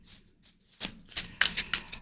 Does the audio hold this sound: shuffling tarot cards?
yes